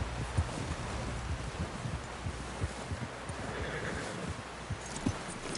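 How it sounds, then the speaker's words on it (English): A horse in the open-world Western video game Red Dead Redemption 2 clops along in a steady gallop rhythm with a neigh, under a wash of wind and ambient noise while voices call out. "Someone help John down off this horse."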